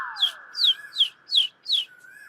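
A bird gives five bright, evenly spaced chirps in quick succession, clear and close, over a steady thin tone with no talking.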